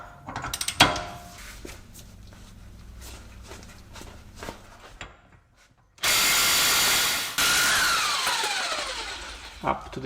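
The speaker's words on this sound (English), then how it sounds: "Step 2 of my modified sequence is removing the wheel hub nut" Loosening the rear wheel hub nut on a Jaguar S-Type: scattered metallic clanks and ratcheting, then two long, loud bursts of power-tool whirring near the end.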